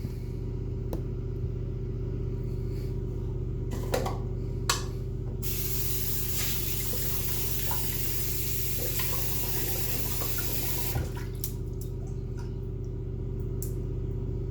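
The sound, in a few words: tap water running to wet a shaving brush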